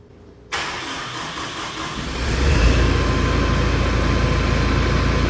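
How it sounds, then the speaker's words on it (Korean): Kubota 1350 tractor diesel engine starting after repair, a sudden crank catching into a loud steady running drone that swells and settles into a strong close idle, heard alone without talk. "수리가 다 끝나서 시운전을 한번 해 보겠습니다 시동"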